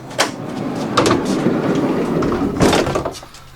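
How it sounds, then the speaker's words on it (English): A camper van's sliding door rumbles along its track with a couple of sharp clunks and latch knocks, loud and close, ending in a heavier thud as it shuts. "I realized once I got it all together and I closed this door"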